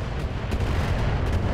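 Mech weapons firing in the BattleTech video game, a dense, rumbling barrage of booming shots rolling continuously for a moment, loud and close with no talk over it.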